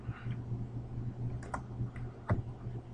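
Computer keys clatter in a quick irregular run of soft clicks, close and fairly quiet, over a low steady hum, with no one speaking.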